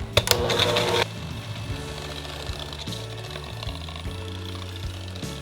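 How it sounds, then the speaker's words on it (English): An electric mixer beater creams butter and sugar for sugar cookie dough, starting with a brief harsh rattling burst, then settling into a steady motorized buzz with rhythmic pulsing, close by. "we're going to beat these with this beater, and we're going to do this until it's a nice light a nice light yellow color"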